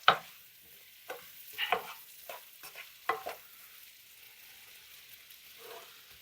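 Onions are stirred in fat in a pot with a wooden spoon, a few scraping strokes over a faint sizzle, close and fairly quiet with pauses between.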